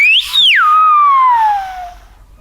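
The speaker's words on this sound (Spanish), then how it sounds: "Voy a silbar a Elena, esta vez sí, no voy a engañar" A single loud, clear Silbo Gomero whistle rises sharply, then glides down in a long, sustained descending tone, a whistled name carrying across a distance.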